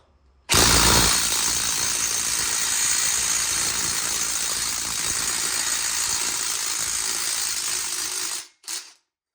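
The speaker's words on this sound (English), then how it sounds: "my battery-powered impact is taking this off" A Ridgid battery-powered impact wrench with a 9 amp-hour battery hammers steadily for about eight seconds, loudly and up close, while it removes a nut from a Berkeley jet pump, then stops and gives one short final burst.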